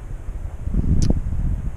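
Low, rumbling wind buffets the microphone on a WR250R motorcycle trip between Marree and Alice Springs, swelling in the middle before easing slightly, with no one talking.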